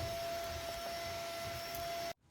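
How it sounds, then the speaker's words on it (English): Vacuum cleaner running on a couch, a steady whining drone with a constant high tone that holds evenly, then cuts off abruptly near the end. "I'm trying to vacuum and my dog thinks that the vacuum is enemy number one."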